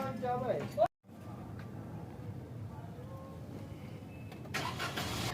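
A car engine starts after a brief cutout, then settles into a low, steady idling rumble, after a clock spring replacement.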